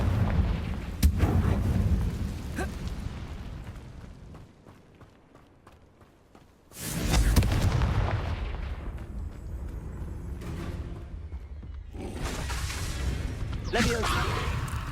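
Confringo fire spells cast in the Hogwarts Legacy video game, producing loud booming blasts and rumbling explosions that rise and fade. Between the bursts come quieter stretches and a shouting voice.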